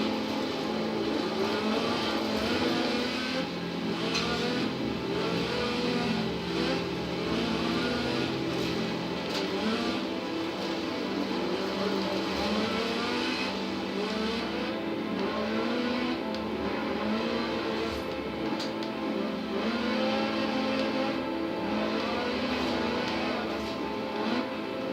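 A 1979 Lotus Sunbeam with a 2.2-litre slant four-cylinder of 250 brake horsepower drives in Forza Horizon 4, its engine droning and revving up and down steadily at close range for the whole stretch, with no talk.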